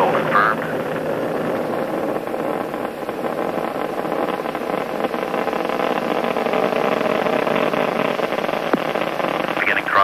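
The engines of space shuttle Atlantis roar steadily during the STS-61B launch as a continuous, broad rumble. Radio voices speak over it.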